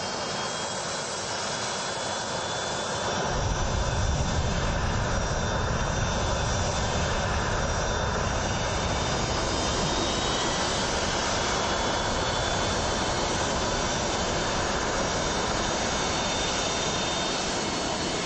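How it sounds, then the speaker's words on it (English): A Russian fighter jet engine rises from a low idle to full thrust, settling into a loud, sustained, dense roar that holds steady and close, with no voices. "I mean, that jet is from a Russian fighter. That is capable of keeping a Russian fighter in the air."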